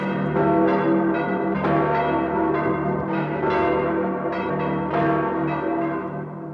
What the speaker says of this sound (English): The bell that tolls for Easter morning also tolls for death.